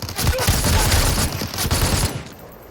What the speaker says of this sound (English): Still getting shot at.